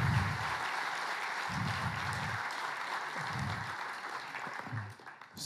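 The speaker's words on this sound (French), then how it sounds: "je vous propose d'applaudir les sponsors" A conference keynote audience at Agile Grenoble 2024 claps for the sponsors, a dense, even wash of applause filling the hall, with soft low thumps underneath.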